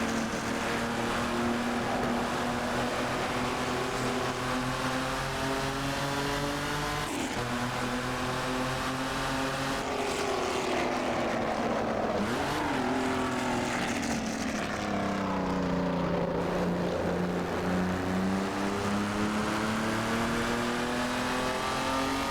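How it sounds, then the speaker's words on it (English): Jaguar XJ13 race car in Assetto Corsa, its engine droning steadily with repeated rising and falling revs through gear changes and corners, plus occasional chassis clatters, loud and continuous with no talk. "some great sounds, not only from the engine, but you've also got some clatters and bangs from the chassis"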